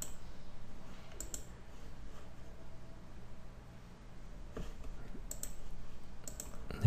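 A few faint, sharp computer mouse clicks land sparsely over quiet room hiss while a software installer is run.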